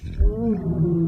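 A growling, rumbling stomach demanding tacos, a low drawn-out groan with a wavering pitch that holds steady for just over a second, close and fairly loud.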